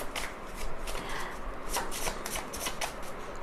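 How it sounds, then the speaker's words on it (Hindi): Tarot cards being shuffled by hand, a steady run of soft riffling and flicking close up, with brief sharper snaps as the deck is bridged and squared. "पहले शफल कर लेते हैं अच्छे"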